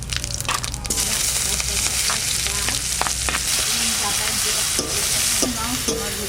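Onion dropped into hot oil with cardamom, bay leaf, dried chilli and cumin, a loud continuous sizzle with scraping strokes of a spatula stirring the pan, close up.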